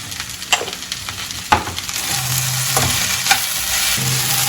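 Pieces of okra (bendakaya) fry for crispy vepudu and crackle with a steady sizzle in a pan. A spoon scrapes and stirs the pan several times, sharp and close, with no talk.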